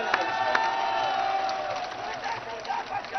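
Crowd at a political rally in Pakistan, a steady roar of many voices with shouts and rhythmic cries, with a few sharp bursts near the start and fluctuating swells toward the end.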